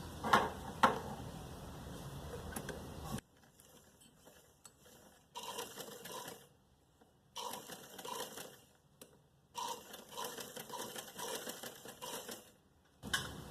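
A sewing machine stitching cloth while a trouser design is sewn, running in a few close mechanical bursts of rapid rattling clatter separated by near-silent pauses, with no voices.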